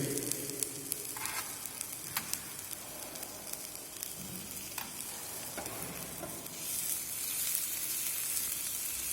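Onions and green chili sautéing in a pan in a practical cooking session, a steady sizzle with occasional stirring clicks and scrapes that grows louder toward the end, close by.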